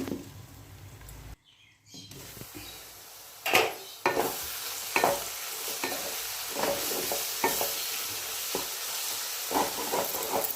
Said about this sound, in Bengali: দু মিনিট ভাজা হোক ঢাকা দিলাম